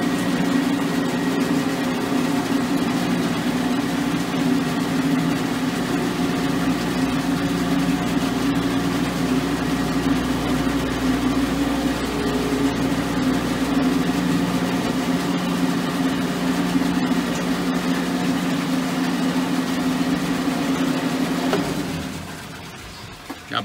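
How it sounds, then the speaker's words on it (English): Two condensate pumps in a condensate unit running together, giving a steady, loud, close mechanical hum with a constant tonal drone for about twenty seconds before it cuts off near the end. "Both pumps are running, and your level, as you can see, is decreasing."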